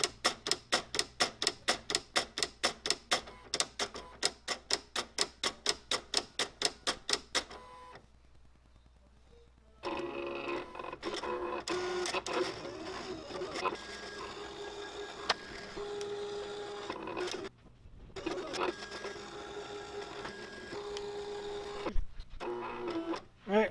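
A Silhouette Cameo 3 cutting machine working on a printed sheet, first a rapid, even series of mechanical ticks as it scans, then a pause, then a steady whirring, buzzing carriage motion with brief stops, close and clear.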